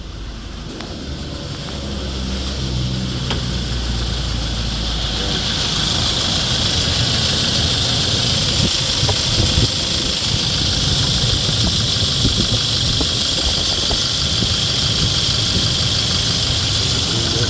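A Toyota Innova engine runs continuously during a test drive with a steady mid-pitched hum and hiss, growing slightly louder early on, then holding even, heard from inside the vehicle.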